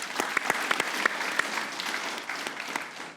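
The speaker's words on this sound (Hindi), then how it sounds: "विकी भाई के लिए तालियां होनी चाहिए भाई साहब" An audience applauds a cricket bowler with a brief, steady burst of clapping. Sharp individual claps stand out above the broad wash of hands, at moderate loudness.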